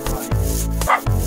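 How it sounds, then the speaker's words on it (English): A dog barks loudly and close by, two quick deep barks in succession. "Stop barking!"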